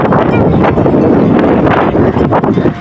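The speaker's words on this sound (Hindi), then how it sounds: "ठंडी हवा चली हुई है बहुत ज़्यादा" Strong cold wind blowing outdoors in a village, a loud continuous buffeting rush with gusty swells across the whole clip.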